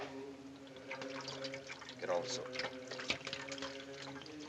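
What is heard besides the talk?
antiseptic being poured over hands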